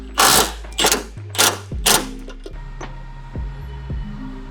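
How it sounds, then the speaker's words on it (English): A socket ratchet tightens bracket bolts while a rally bar is fitted to a Suzuki Jimny JB74: four loud, quick bursts of clicking cranks, then fainter, slower ratchet clicks, close by and with no talk. "we can grab our socket and we can crank it up"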